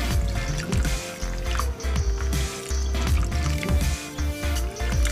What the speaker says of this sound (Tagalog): lagay na natin tubig.